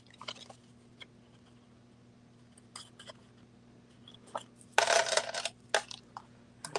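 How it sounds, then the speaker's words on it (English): Tape pulled off a roll in a short loud rip, surrounded by scattered light taps and rustles as pieces are stuck down, close, over a faint steady hum. "grabbing some tape"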